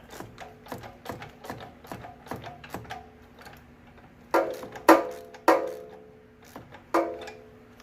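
A 12 mm ratchet wrench loosens a bolt on a 2000 Toyota Camry during an alternator replacement. It gives a run of quick, close pawl clicks, then several louder, ringing metallic clacks, and no one speaks.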